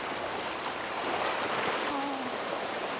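Sea water surges and washes continuously over coastal rocks on a remote island shore, a loud, close rushing wash with no voices.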